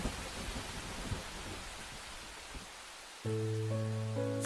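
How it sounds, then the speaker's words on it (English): A heavy lightning storm, with dense rain hiss and low thunder rumbles for about three seconds, then a sustained, steady musical tone abruptly takes over. "Cowering in a horrible lightning storm"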